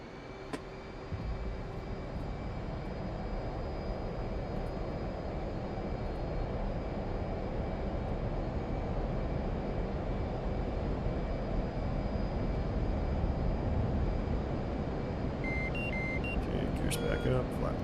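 Steady jet engine roar from an F/A-18C in the DCS World simulator, spooling up for a carrier catapult launch, holding loud and continuous throughout with a few faint electronic beeps near the end.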